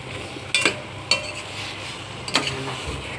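Potatoes for tomato potato soup being stirred in a pot: a few distinct scraping clinks of a utensil against the pot, close and moderately loud, over a faint steady sizzle with no talk.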